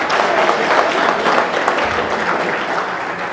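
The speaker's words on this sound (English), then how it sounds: "Clap for yourself." Loud, close applause from a school audience clapping for themselves at a talk about life after school, a dense burst of hand claps that tapers slightly toward the end.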